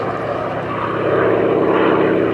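Propeller warbird aircraft flying a display at Sywell Airshow, its engine a loud, steady droning roar that swells slightly as it banks overhead, heard alone without talk.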